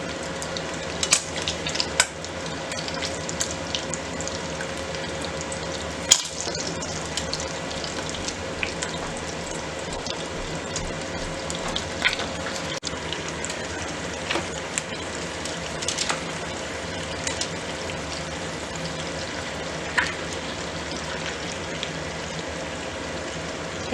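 Chicken pesto roll-ups frying in a pan, a steady close sizzle and crackle that runs the whole time, with occasional sharper pops and stirring clinks.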